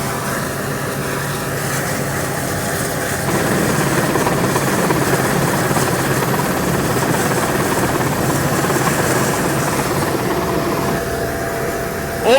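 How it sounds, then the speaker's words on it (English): A big Sea King helicopter sets down in a small landing zone hemmed in by trees, its loud rotor and turbine roar steady and close throughout, swelling slightly midway, with no talk. "It's a very, very small place to land a big helicopter like this,"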